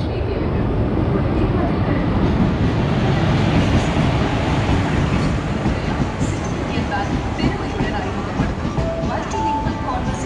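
A train rolling through a railway station in Tiruchendur, a loud, steady rumble with faint rattling throughout, with a person talking over it.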